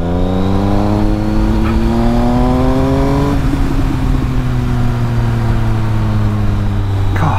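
A Triumph Speed Triple 1050 S engine with its exhaust baffle removed revs loudly and rises in pitch with a raw, open exhaust roar, then settles into a steady deep drone, close to the listener.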